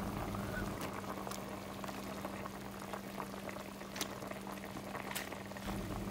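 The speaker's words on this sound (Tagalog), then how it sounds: "Ayan, kumukulo na." A pot of soup with pechay greens and clams comes to a rolling boil, giving a steady close bubbling and gurgling with a constant low hum beneath, alone and without talk throughout.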